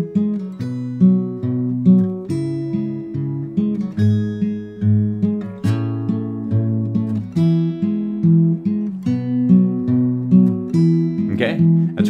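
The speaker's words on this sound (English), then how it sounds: "bring in the first melody note of each measure only, but do all the bass notes." Fingerstyle acoustic guitar plays a folk song with steady alternating bass notes and only the first melody note of each measure, a gentle, even picked rhythm, close and clear with no talking.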